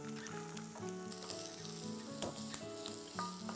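Garlic, ginger and onions fry in a pan with a quiet, crackling sizzle and a few stirring knocks, set under soft melodic background music.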